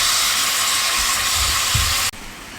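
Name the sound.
beef browning in a pan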